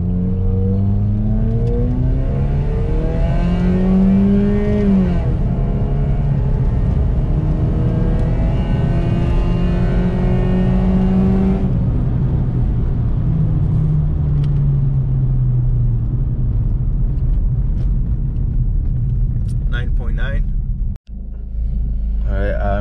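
A car launches hard from a standstill in a 0 to 60 run, its engine note climbing through rising, sweeping revs as it pulls through the gears, loud and close with steady road rumble underneath.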